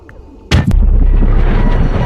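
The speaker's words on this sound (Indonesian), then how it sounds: "tubuh kapten berserta baju selamnya meledak dan Norah terjatuh lalu pingsan." A diving suit bursts underwater in a film scene: a sharp, loud blast followed by a heavy, sustained low-frequency rumble and roar that fills the rest of the short moment.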